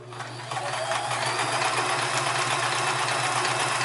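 A Sears Kenmore 158 series sewing machine stitches steadily, its motor humming and needle mechanism whirring continuously at close range with no talking.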